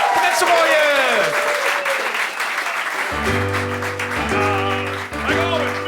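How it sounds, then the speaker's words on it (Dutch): Applause and cheering fill a crowded carnival café, loud clapping and voices at first. The clapping then carries on under sustained steady music tones with a band-like swell that starts and stops in blocks. "Mag een applaus voor Ede, Hoogheden, dankjewel."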